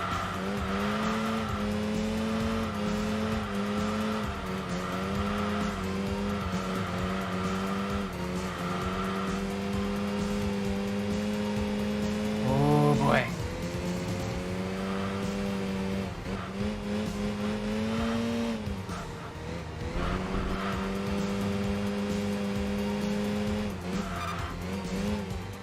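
A Pantera and an RX-7 race in Enthusia Professional Racing, their engines droning steadily with shifting pitch and a brief tire squeal partway through, loud and continuous, with no talk.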